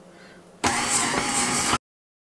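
A KitchenAid stand mixer set to speed 2 for sugar cookie dough kicks on abruptly and runs with a loud, steady motor whir for about a second before cutting off to silence.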